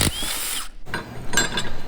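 A ratchet clicks and whirs in short bursts, loosening 14mm hub bolts on a 2024 Subaru Crosstrek's rear wheel bearing, close and sharp with a brief pause between runs.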